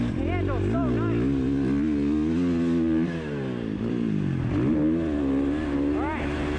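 Husqvarna FC 450 motocross bike engine running while ridden, with a steady, continuous drone that rises and falls in pitch through throttle changes, close and loud throughout.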